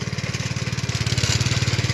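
Tractor engine working a farm field, a loud close rhythmic low chugging with a fast steady pulse and mechanical clatter throughout.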